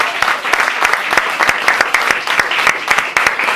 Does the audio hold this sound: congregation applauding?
yes